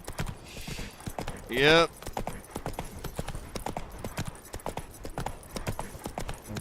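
Horse hooves clip-clop in a steady, even rhythm in The Witcher 3, with a brief high whinny-like sound early on and a voice speaking briefly over the hoofbeats.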